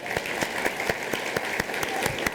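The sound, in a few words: church congregation applauding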